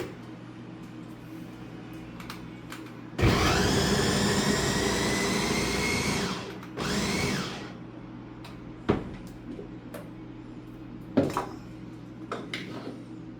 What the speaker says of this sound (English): And this is why a food processor, guys, is like the king.